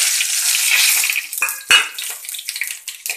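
Whole spices, two bay leaves, cumin, five cloves, four cardamom pods and a cinnamon stick, frying in hot oil with a loud, bright, continuous sizzle, broken by a sharp utensil clank and scraping stirs.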